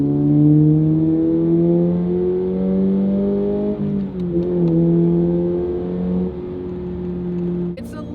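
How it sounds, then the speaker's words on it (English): A Subaru BRZ fitted with an MBRP axle-back exhaust cruises on the highway with a loud, steady droning engine note that dips briefly and then settles back into the same hum. "Highway sound test, MBRP exhaust, axleback exhaust"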